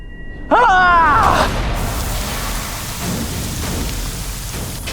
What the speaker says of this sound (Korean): 소낙비가 우다다다다다 떨어지더니 막 천둥 번개가 내리치고 이 산 전체에 구름이 자욱한 거야